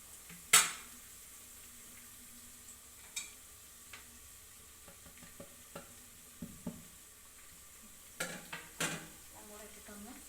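Whole spices stirred and frying in a pan while making egg biryani, with sparse clinks and taps of a spoon against the pan over a faint, steady background.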